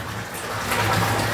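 Water pouring from an opened tap at a farm, a steady close rushing gush like a small waterfall, continuous throughout.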